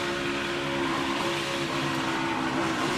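A Ford NASCAR race car engine roars from onboard during the 2020 Daytona 500, a loud, dense, steady drone that fills the whole stretch without a clear drop in pitch.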